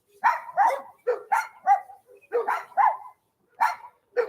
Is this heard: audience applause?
no